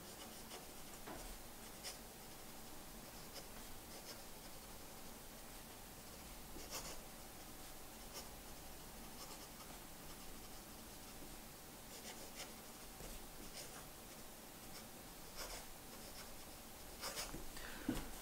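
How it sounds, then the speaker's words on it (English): A Jinhao 80 fountain pen with a medium nib scratches quickly across paper, a soft continuous scratching with short faint strokes and pauses, close and quiet. "as you can see, it handles quick writing pretty well"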